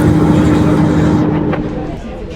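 Steady rumble of a bus riding through Hanoi traffic, loud engine and road noise from close inside, easing off slightly near the end.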